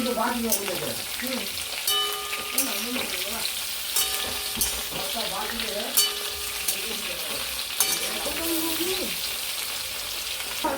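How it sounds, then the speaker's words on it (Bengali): Pointed gourd slices fry in an oil-filled pan, a steady close sizzle broken by periodic clinks and scrapes of stirring, with someone speaking over it. "সেভেন্টি পার্সেন্ট আমার পটলটা ভাজা হয়ে গেছে"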